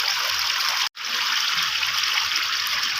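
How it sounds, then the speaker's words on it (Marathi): Rain-swollen stream water rushes and swirls around stones jammed in its bed during a flood, a dense steady hiss that cuts out for an instant near the start and resumes. "त्यामुळे पाणी गोल फिरण ह्या साईडला येतं आणि अर्धा पाणी या साईडने बाहेर पडतं"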